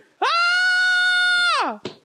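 A voice imitates his own scream with one long, piercing, steady wail lasting over a second that drops off at the end, followed by a brief sharp vocal burst, loud and close.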